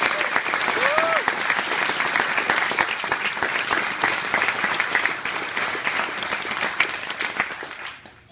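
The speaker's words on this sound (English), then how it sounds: "let's give a round of applause to our newest Golden Knights" Audience applause greets the newest Golden Knights at a graduation ceremony, a steady dense wash of many hands clapping that holds loud for about eight seconds before easing off at the end.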